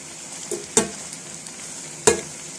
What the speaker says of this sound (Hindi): बॉयल किए हुए नूडल्स डाले हैं। अब इसको अच्छे से मिक्स कर लूँगी।